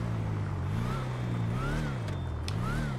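Engine of a Bravado Gauntlet muscle car in GTA Online, revving up and down in repeated swells with a thin whine riding above the rumble; loud, close and continuous.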